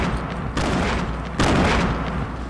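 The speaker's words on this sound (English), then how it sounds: "Throwing nades." Two heavy booming grenade explosions in Fortnite, loud and close, each a broad blast followed by rumbling decay, spaced about a second apart over a steady noisy background.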